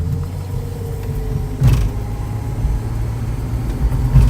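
A 1975 Datsun 280Z engine pulls at half throttle from a dead stop, a loud, steady low drone heard from inside the car with a couple of thumps and mechanical creaks.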